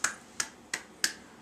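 A stand-up comedian's one-handed 'all-knowing clap': four crisp, sharp snapping claps at an even, unhurried pace, close and clear with no talking.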